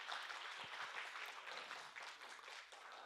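Quiet, thin applause from an audience at a book concert, steady hand-clapping spread through the whole stretch at a low level with no talking over it.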